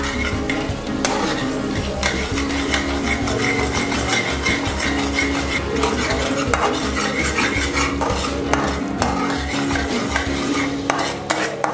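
Spice masala for Punjabi dal makhani is sautéed in a pan, with close, rhythmic scraping and clinking of a spoon against the metal over a low sizzle. The stirring continues without pause and no one speaks.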